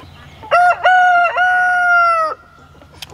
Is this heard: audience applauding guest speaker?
no